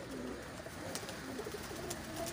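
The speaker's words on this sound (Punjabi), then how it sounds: "ਇਹ ਦੋਸਤੋ ਕਬੂਤਰ ਨੇ" Competition pigeons coo softly in a low, rolling murmur, fairly faint against a steady background hiss, with a couple of brief sharp taps or flutters breaking through.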